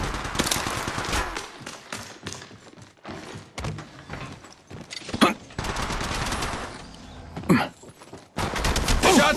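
Bursts of automatic gunfire from the mobile shooter Apex Legends Mobile, rapid fusillades broken by thuds and short pauses, loud and close, with a voice heard briefly among the shots.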